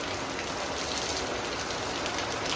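Heavy rain pours down steadily, a dense, loud, unbroken wash of drops hitting surfaces all around, with no voices heard.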